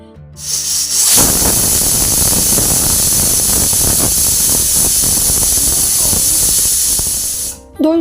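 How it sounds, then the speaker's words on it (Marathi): A loud, sustained hiss of steam rushes out from a pressure cooker whistle while cooking chicken dum biryani, lasting several seconds, then cuts off abruptly. "या कुकरच्या फक्त आपल्याला दोन शिट्ट्या करून घ्यायचे"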